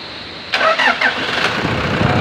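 A Toyota Hilux 1KD diesel engine cranks briefly, then catches and settles into a steady idle. It sounds close and fairly loud, with no voices.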